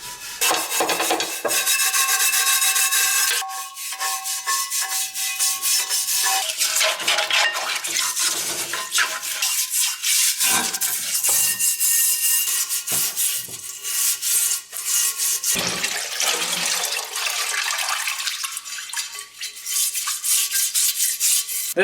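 Steady rasping and rubbing of abrasive against metal as the inside of an engine part for a 1956 Chevy build is sanded, continuous and close for about twenty seconds with short pauses and no talking.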